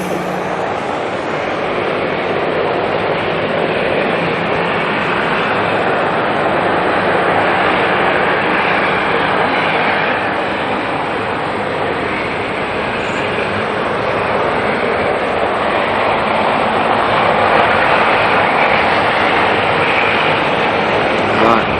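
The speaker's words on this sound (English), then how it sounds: "the little Dashi that's going to go down to Nelson still wants to steal the show with its sound" A Dash 8 turboprop at Auckland Airport, a loud steady engine drone with broad roaring noise and a high whine on top, holding nearly unchanged for over twenty seconds.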